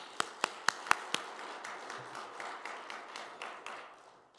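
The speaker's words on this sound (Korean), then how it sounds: "우리 박수 한번." A church congregation claps, opening with a few sharp, distinct claps that give way to a faint, scattered patter of hands fading out.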